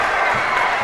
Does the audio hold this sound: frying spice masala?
no